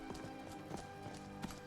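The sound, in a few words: horse hooves clip-clopping in video game Skyrim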